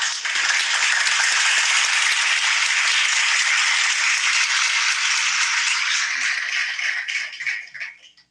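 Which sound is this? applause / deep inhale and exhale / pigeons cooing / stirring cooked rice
applause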